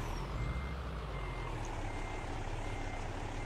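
A Peterbilt 389 truck backs up in Euro Truck Simulator 2, its low engine rumble steady and continuous, with little sign of distinct beeps.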